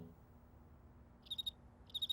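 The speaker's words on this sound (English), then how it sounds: "We have to listen for that sound and follow it until we find the cricket." A cartoon cricket chirps in two short bursts of rapid, high trills separated by a pause, faint and clear against a quiet background.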